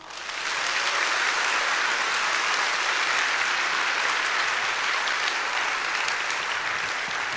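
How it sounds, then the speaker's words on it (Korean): A corporate vision declaration ceremony, where a large audience claps after a presentation. Loud, sustained applause swells in quickly and holds as a dense, continuous roar of hands for several seconds, with no voices over it. "다시 한번 큰 박수 부탁드립니다."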